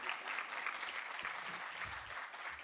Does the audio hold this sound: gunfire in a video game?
no